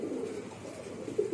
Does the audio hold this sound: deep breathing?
no